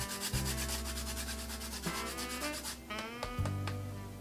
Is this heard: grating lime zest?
yes